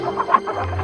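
A hen clucks in short, close, repeated bursts, loud and with no other sound.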